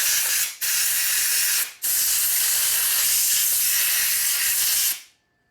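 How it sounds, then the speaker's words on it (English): Compressed air blasts metal chips out of a custom-made socket in a workshop working on a 1952 Harley-Davidson Panhead. The hissing comes in three loud, steady bursts with short gaps between them, then cuts off. "Blow all the chips out of here so they get dirty"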